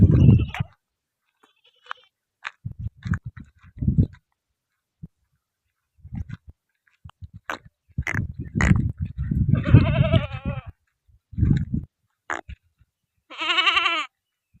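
Goats bleat in scattered bursts at a village pen, some nearby and loud, with quiet gaps between calls and a final long wavering cry.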